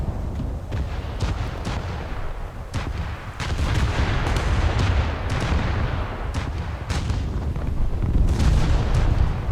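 Heavy 12-inch naval guns firing in a warship video game, booming blasts rolling one after another over a dense, sustained low rumble of continuous gunfire, loud and close throughout.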